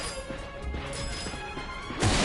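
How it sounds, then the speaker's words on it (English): Ratchet smashing wooden crates in the video game Ratchet and Clank: a busy run of cracking, splintering hits over game music, with a louder burst of smashing near the end. "Look at him smashing crates."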